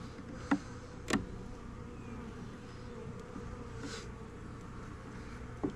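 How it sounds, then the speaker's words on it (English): Honey bees in a two-frame queen hive hum as a low, steady, faint drone. A few brief clicks and knocks from handling the frames sound over it, and no one speaks. "This one definitely seems to have more bees"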